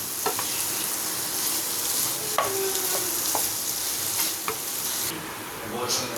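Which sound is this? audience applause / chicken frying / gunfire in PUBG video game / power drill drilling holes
chicken frying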